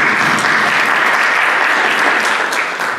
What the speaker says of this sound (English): Let's give all the officers a round of applause.